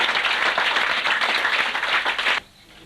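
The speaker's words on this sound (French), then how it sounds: "qu'on applaudit très fort" Audience applause for comedian Laurent Boisserie at a 1994 stage show, a dense, steady burst of clapping that fills the room for over two seconds and then cuts off abruptly into near silence.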